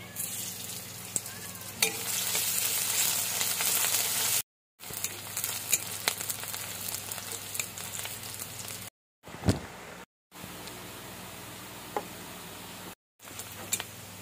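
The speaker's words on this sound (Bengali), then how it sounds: "তো আমার পেঁয়াজটা ভাজা হয়ে গেছে," Onions fry in leftover oil from frying fish, in a pan for a fish curry, with a steady close sizzle, occasional clicks and knocks from stirring, and a few brief silent breaks.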